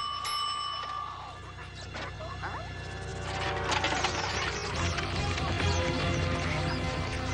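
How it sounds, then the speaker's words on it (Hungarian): A bell rings in an animated cartoon, Transformers Rescue Bots: a bright, ringing chime near the start over a busy bed of cartoon effects and noise. "Biztos, hogy van itt valahol egy csengő hang."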